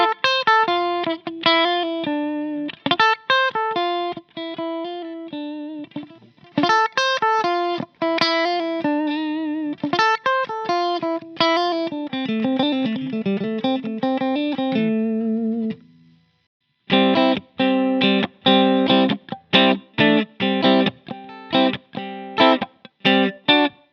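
Clean electric guitar through an MXR Supercomp compressor pedal with no distortion, close and loud, playing picked riffs and chords with even sustain, a short pause, then choppy staccato strums.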